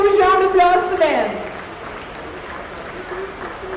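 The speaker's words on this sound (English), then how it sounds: "Can you please have a huge round of applause for them?" Crowd applause at the Mumbai International Motor Show, a steady patter of many hands clapping that begins as a voice over a loudspeaker trails off, then continues on its own.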